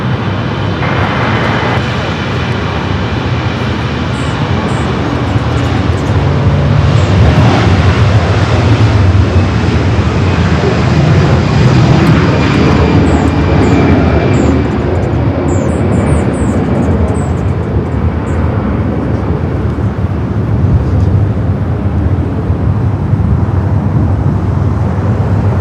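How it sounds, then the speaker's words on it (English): A Delta Boeing 767-300ER jet, 31 years old, bound for JFK from Los Angeles International Airport, rumbles with a steady, fairly loud engine roar that peaks midway while people talk over it. "Delta flight heading to JFK, others 767-300ER, 31 years of age"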